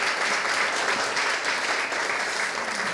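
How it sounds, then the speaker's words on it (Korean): An audience applauds a youth orchestra at an outdoor city concert, with steady, dense clapping that stays even and fairly loud throughout. "네, 박수 한번 부탁드리겠습니다."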